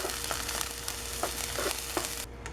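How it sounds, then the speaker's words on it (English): Garlic and a small shallot sauté in olive oil in a pan, giving a steady crackling sizzle with occasional sharper pops and stirring scrapes, close and with no talk. "saute your garlic and your small shallot in the olive oil"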